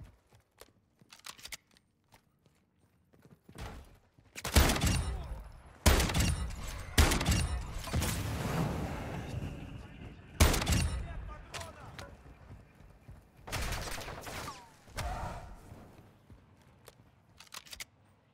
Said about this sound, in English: I heard another bot shooting at me over here.